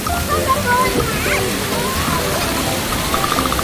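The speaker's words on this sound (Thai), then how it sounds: "โอ้โห น้ำตกใหญ่มาก ใช่ น้ำตกใหญ่มาก" A large waterfall rushes and sloshes continuously, close and loud, while voices and tonal sounds come through faintly over the water.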